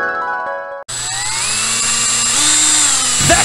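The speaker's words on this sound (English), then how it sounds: "How a drill works!" A power drill whines steadily at close range, its motor pitch rising slightly partway through after a brief abrupt start, loud and alone with no voices.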